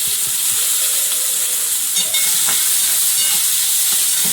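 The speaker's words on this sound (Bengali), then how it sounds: "একটু পাঁচ ফোড়ন তেল, রসুন কিছু সব দিয়ে দিলাম।" Five-spice seeds and garlic hit hot oil for an eggplant and fish-head dish, giving a loud, close, continuous hissing sizzle with a brief sharper burst midway and no talking.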